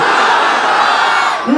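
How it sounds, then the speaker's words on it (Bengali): A large crowd at an Islamic sermon gathering roars a loud, sustained takbir chant in unison, a dense wall of massed voices that dips slightly near the end. "জোরে তাকবীর দেন। লিল্লাহি তাকবীর।"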